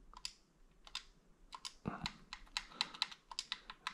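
Quick, irregular key clicks sound as someone types a search, close and quiet, in short bursts with brief pauses between them.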